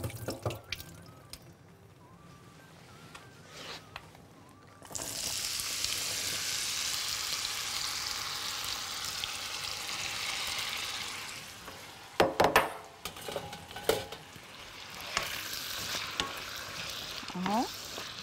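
Potatoes sautéing in hot oil for a Libyan cheese tagine give a steady, loud sizzle that rises sharply about five seconds in. Occasional stirring clatters and scrapes sound close by, and no one speaks.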